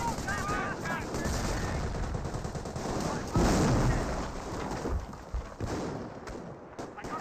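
Continuous gunfire and explosions from the World War II strategy game Company of Heroes, with scoped rifle squads fighting Volksgrenadiers and Panzergrenadiers. Dense, sustained shooting continues throughout, with a louder burst partway through.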